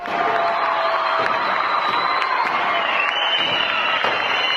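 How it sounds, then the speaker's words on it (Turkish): Students in school corridors cheer and shout loudly for a teacher returning after beating cancer. The excited, echoing cheers and children's shouts are close and continuous, with overlapping voices throughout. "Muharrem öğretmen okula girdiği anda koridorlar öğrencilerin sevgi dolu tezahüratlarıyla yankılandı"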